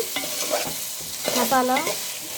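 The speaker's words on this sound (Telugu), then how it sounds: "మటన్ యాడ్ చేసుకున్నాను. ఒకసారి మిక్స్ చేసుకుందాం." Spoon stirring cooked mutton through a masala gravy in a pan, a few scraping strokes over a soft background sizzle, close and fairly quiet.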